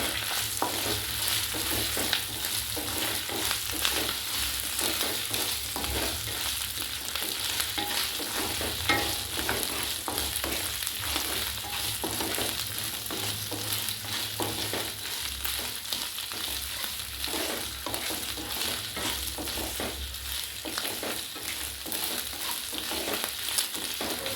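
Upma ingredients with chilli powder frying in ghee in a pan, stirred continuously with soft scraping strokes under a steady, faint sizzle.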